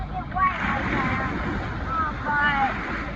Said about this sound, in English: it's a little loud because the ocean and the wind